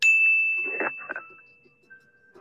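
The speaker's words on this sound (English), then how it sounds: "I gotta give you a bell for that one." A bright bell ding sound effect dropped into a boxing discussion show, one sharp strike ringing on with a long sustained tone, with brief talk mixed in under it before a softer second tone.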